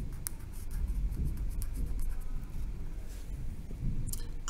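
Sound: writing on notes with a pen

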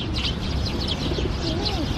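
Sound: pigeons cooing in Ueno Park, Tokyo

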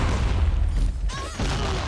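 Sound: explosion in a video game (XSHOT)

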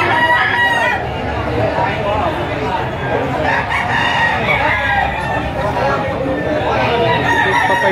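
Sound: roosters crowing at a chicken auction

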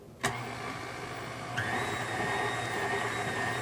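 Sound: stand mixer with beater attachment and splatter guard mixing

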